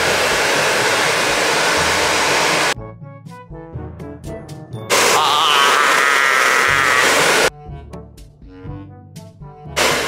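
A hair dryer at a barber shop, blasting air on a face, roars loudly and close in two long steady stretches, broken by quieter gaps filled with clattering and rustling movement.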